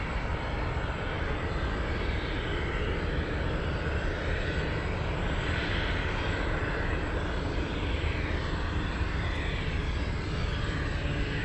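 A jet airliner taking off at Anchorage airport, its engines giving a steady, loud, broadband roar that holds without a break throughout, with no voices.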